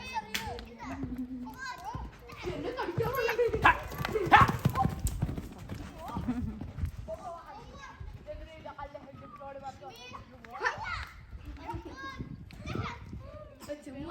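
Horse hooves clip-clop at a steady walking rhythm during a horseback safari, close and moderately loud, mixed with children's voices and adult talk throughout.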